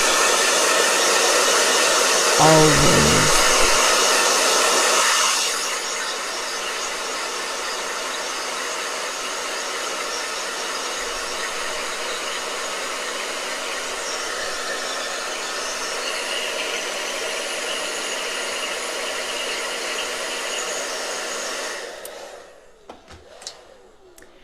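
A loud blow dryer drying paint roars steadily, drops to a lower hum after a few seconds, keeps running a long while, then clicks off.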